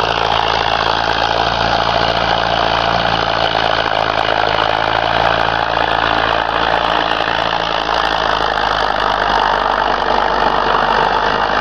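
A Preet tractor engine idles loudly and steadily, close by, with a constant deep rumble and a dense mechanical chatter that never changes pace, and no voices over it.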